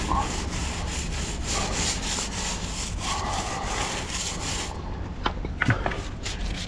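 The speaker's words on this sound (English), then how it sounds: "We'll pre-moisten our stiff bristle brush." A stiff nylon bristle brush scrubbing concrete dissolver on old hardened concrete, making steady close back-and-forth rasping strokes that briefly stop near the end before a few sharp scrapes.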